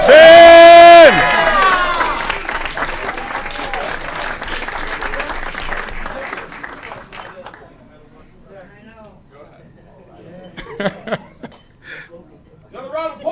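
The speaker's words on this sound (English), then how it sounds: "Another round of applause for Ben." Applause and crowd noise fill a city council meeting chamber, a loud burst at the start that thins into scattered clapping and murmuring over several seconds, with talk heard throughout and a brief swell of voices near the end.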